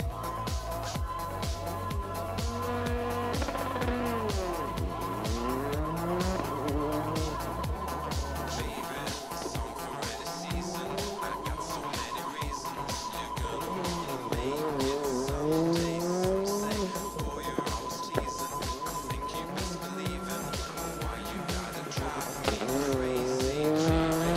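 Rally car on a special stage at Champéry in the Rallye du Chablais, launching hard and revving through gears with loud engine whine, tire squeal and skids, close and continuous, with faint voices underneath.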